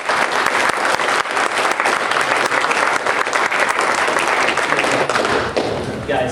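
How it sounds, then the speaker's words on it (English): Applause from a seminar audience at a pinball convention for a Stern Pinball design executive, steady and dense for about six seconds, loud and close, with scattered taps and thuds and a slight easing at the end. "Let's give him a Texas round of applause."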